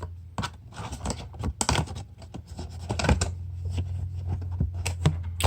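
An R1 Concepts carbon Geomet brake rotor is slid back into its packaging, giving close, crisp crinkling, rustling and light knocking in irregular bursts with no voices.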